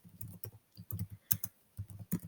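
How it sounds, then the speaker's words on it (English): Fingers typing on a Chromebook keyboard, a quiet close run of irregular key clicks with short pauses between bursts, no talking. "you can go ahead and do it that way by typing"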